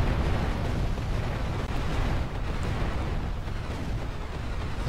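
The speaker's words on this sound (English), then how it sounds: "That's quite an explosion." An explosion in GTA Vice City heard as a loud, dense rumbling roar that lasts throughout with no clear onset, like a fire or blast aftermath, with no talking.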